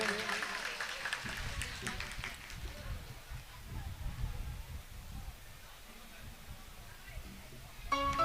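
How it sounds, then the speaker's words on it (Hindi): Audience applause at a live Shri Ram Katha religious gathering, a burst of clapping over the first few seconds that fades into a quieter crowd murmur, with a brief sharp clatter near the end. "बहुत जोरदार ताली बजाएंगे।"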